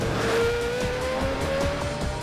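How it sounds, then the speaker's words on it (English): A souped-up supercar races past at high speed, its engine note climbing in a loud, steady whine with a faint tire edge over about two seconds, heard alone without voices. "That'd be time to cue the souped-up supercar."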